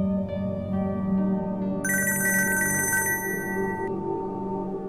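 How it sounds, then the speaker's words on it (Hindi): A telephone rings with bright electronic tones, a louder ringtone burst joining midway over a low background hum. "देखिए फोन बज रहा है"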